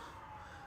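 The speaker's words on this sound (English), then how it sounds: "Sorry for the police car outside." A police car siren sounds outside, faint and distant, a steady wailing tone heard only for a brief moment.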